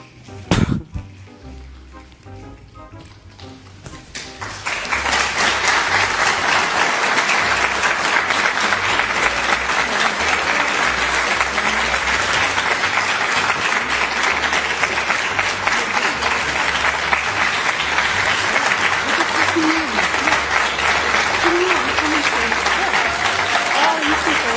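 A room full of people bursts into loud, sustained applause after a 16-year-old's emotional speech, rising after a few quiet seconds with a brief voice and then holding steady and dense to the end.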